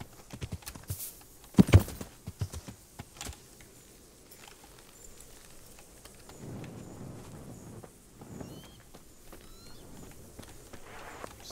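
Horse hooves clopping in Kingdom Come: Deliverance, an irregular run of sharp knocks at the start, then quieter rustling steps over a low ambient bed, with no talking.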